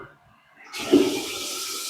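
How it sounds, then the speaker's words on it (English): A toilet in a remodeled home in Cerritos is flushed by remote control, with a click and then a loud steady rush of flushing water starting partway through and continuing to the end. "Look at that, getting flush with the remote control."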